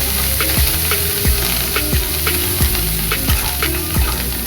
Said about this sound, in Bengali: দেখুন এখানে সর্ষে মহাশয় কীরকম ফরফর করছে, ভাজা হয়ে এসছে।